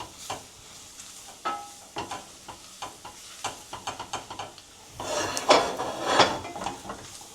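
Flour gravy for sweet pepper gravy cooks in a pan while a utensil stirs and scrapes it in quick strokes, with a louder, denser sizzle and scraping toward the end.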